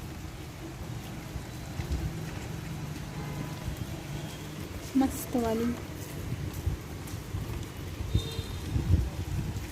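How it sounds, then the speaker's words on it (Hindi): Heavy rain falls outside a home as a steady, soft, broadband hiss that runs under the whole stretch. Someone talks over it, and there are occasional household bumps. "ये देखिए झमाझम बारिश हो रही है आज तो।"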